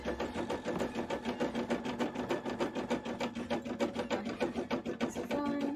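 Sewing machine stitching fabric for a bra costume piece, close and loud, with a fast, even mechanical chatter that runs steadily throughout and stops briefly near the end.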